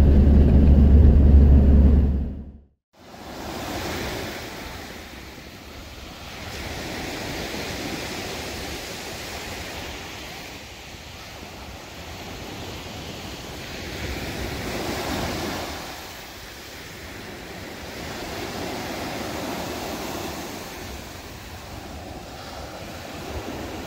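Black Sea waves roll onto a Romanian beach in a steady, broad wash of surf that swells and eases every few seconds, with wind rumbling on the microphone, after a brief loud burst at the start.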